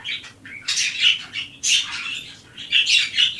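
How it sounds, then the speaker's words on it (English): Pet birds chirp and squawk indoors in bright, overlapping bursts that come in several loud clusters close by, with no talking over them. "Sorry about the birds."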